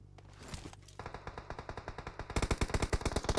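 Sustained automatic weapon fire in PUBG Mobile, a fast regular volley that grows louder and denser partway through, ending in sharp close bursts with no speech over it.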